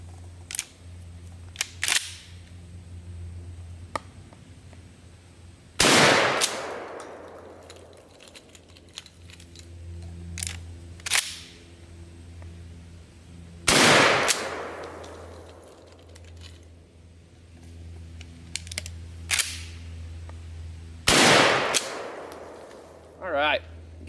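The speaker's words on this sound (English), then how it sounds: "I'm going to load 1 shell at a time, shoot it, 1 shell at a time, shoot it, just for fun" Mossberg Model 88 12-gauge pump shotgun fired one shell at a time, three loud, sharp blasts spaced several seconds apart, each with a decaying echo, separated by quieter handling and pump-action clicks.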